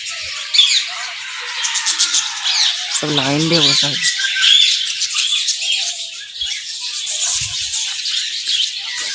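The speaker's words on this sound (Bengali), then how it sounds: "এখানে পাখি রাখা আছে সব" Many birds squawk and chirp continuously in a crowded aviary at a picnic spot with animals in Uluberia, a dense, loud chorus running under a person's talking throughout.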